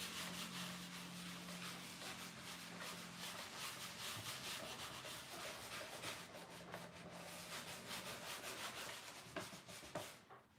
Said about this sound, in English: I'm going to come in and get the excess wax off with a kitchen towel